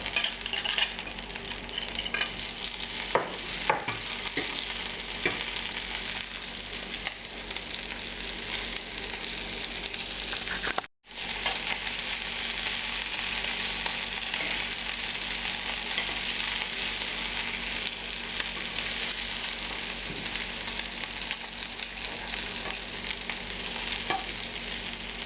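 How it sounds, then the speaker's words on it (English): Shrimp frying in a hot cast iron pan give off a steady, even sizzle that carries on without a break, with light stirring clinks now and then and no voices. "And here I'm showing you how I'm cooking the shrimp."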